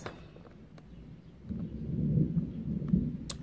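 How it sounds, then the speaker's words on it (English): A low, rolling rumble of distant thunder builds gradually and swells in the low end, with no voices. "You hear that thunder?"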